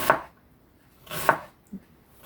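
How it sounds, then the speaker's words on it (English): A sharp knife slicing through an onion: three crisp, separate cuts about a second apart, close and clear with quiet between them. "because the knife is nice and sharp, we shouldn't have much effort in just gently slicing the onion"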